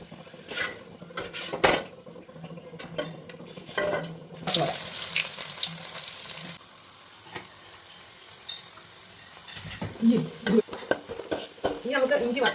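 Garlic sizzles in hot oil for a pineapple pickle while a metal spoon scrapes and stirs it around the pan. The stirring comes in irregular close-up clatters over a steady frying hiss.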